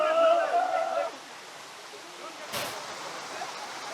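A waterfall at a riverside stop on a motorcycle ride near Kalasa makes a soft, steady rush. A brief voice and a murmur sound at the start, and a sharp thump comes midway.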